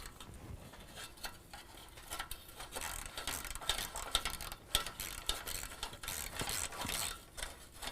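A ratchet wrench with a 12mm socket clicks steadily while snugging an exhaust bolt on a Flowmaster Force II system, busy rapid ratcheting with sharper ticks, close and moderately loud with no talk.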